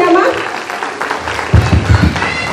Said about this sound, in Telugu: థ్యాంక్ యూ సో మచ్ మేడంకి ఒక్కసారి గట్టిగా క్లాప్స్ ఇద్దామా?